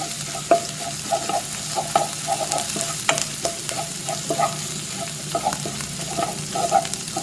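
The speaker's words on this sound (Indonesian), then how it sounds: "kita goreng telurnya ya. Kita buat telur orak-arik." Eggs for scrambling fry in a little oil in a pan, giving a steady sizzle broken by scraping and tapping from a utensil stirring them at close range.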